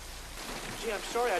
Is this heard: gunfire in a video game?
no